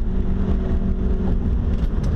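A 2017 Ford F-350 Super Duty pickup accelerating, a loud, steady engine roar with a deep hum and whirring tone held close throughout, no talking over it.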